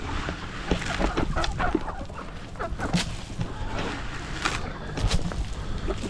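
Chickens cluck and peck in a coop around a feeder, a busy scatter of faint, close clucks and clicks over a breezy, noisy background.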